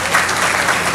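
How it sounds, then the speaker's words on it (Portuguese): An audience at a literary festival honour ceremony breaks into applause, a brief, loud, dense burst of clapping. "Uma salva de palmas para Coelho Neto."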